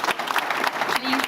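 A seated audience at a maritime forecast launch event applauds with a full, steady clatter of clapping, with a faint voice briefly audible under it.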